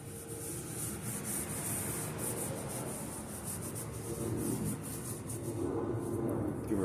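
Powder being rubbed by hand into a silver casting mold, a steady close scratchy rubbing that continues without break.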